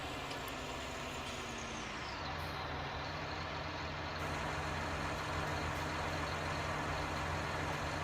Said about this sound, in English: Nothing sounds better than a tractor at full load,